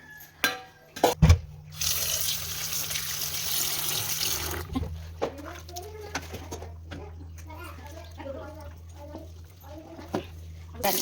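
Ingredients such as chickpeas being washed under a running kitchen tap, a loud steady gush after a couple of sharp knocks that settles into quieter flowing water, with birds chirping in the background.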